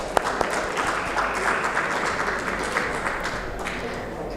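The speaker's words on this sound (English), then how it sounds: "Please give him a huge round of applause and welcome him on stage" An audience at an annual financial outlook panel discussion claps to welcome a panelist onto the stage, a steady moderate wash of applause lasting a few seconds, slightly distant in a hall.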